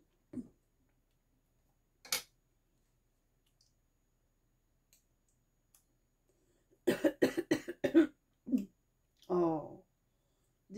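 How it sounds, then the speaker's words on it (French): A woman coughs in a quiet indoor room: a short cough at the start, another shortly after, then a close burst of several rapid coughs and throat-clearing sounds near the end, with small clicks between. "désolée, hein, je tousse."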